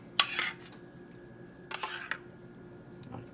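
A spoon clinks and scrapes against a dish while sauce is spooned over a baked meatloaf, two short bursts of close metallic clatter separated by quiet room tone.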